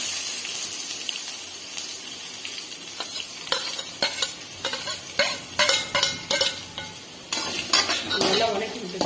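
Chopped large onions, added after mustard seeds and curry leaves, sizzle in hot oil in a pan as a spoon scrapes and clatters against the metal in quick repeated strokes over a steady frying hiss. No talking.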